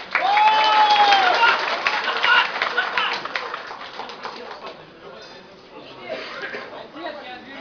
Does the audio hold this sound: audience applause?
yes